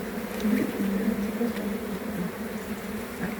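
Honeybees buzz steadily at an apiary hive at a beekeeping school, a dense continuous drone close by and moderately loud, with no speech.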